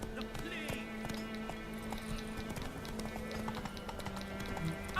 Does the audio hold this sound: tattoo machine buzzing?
no